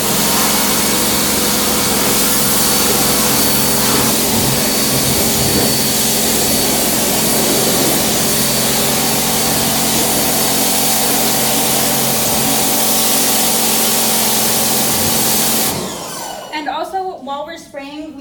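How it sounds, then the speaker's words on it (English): A hose sprays water hard and steadily to rinse the walls of a dog kennel in an animal shelter adoptions building, a loud continuous hiss close by that cuts off near the end. "So first we're gonna rinse off the whole kennel."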